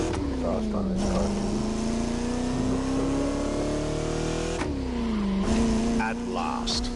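A car engine in the video game The Crew Motorfest revs steadily with a rising, droning exhaust note, dipping and climbing again near the end, loud and close with a voice faintly underneath.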